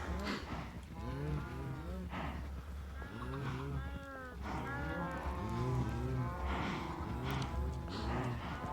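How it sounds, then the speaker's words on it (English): Blocky cows mooing in Minecraft, a run of repeated low moos overlapping one another, loud and close, continuing throughout the clip with no talking. "You cows are loud."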